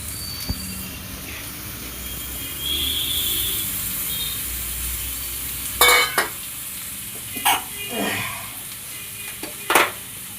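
Bombay duck (loitta) fish frying and being stirred in a pan: a steady close sizzle runs throughout, broken by a few loud scraping stirs of the spatula toward the end.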